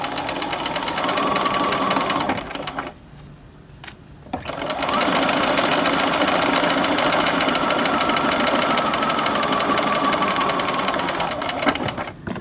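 A sewing machine runs steady, fast stitching along a jacket collar and lapel facing, loud and close, pausing for about a second and a half partway before starting up again and continuing to the end.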